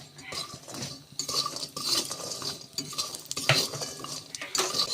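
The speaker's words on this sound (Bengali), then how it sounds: "প্রথমে বড়িটা ভেজে নিচ্ছি" Lentil dumplings (bori) frying in a pan in a home kitchen, with a spatula scraping and clinking against the metal pan over a soft sizzle, close and busy, no talking.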